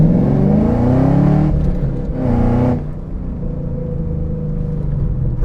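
A 2013 Camaro ZL1 with a 6.2 liter engine roars under acceleration, its deep rumble rising and dipping through gear changes before settling to a steadier drone, loud and heard from inside.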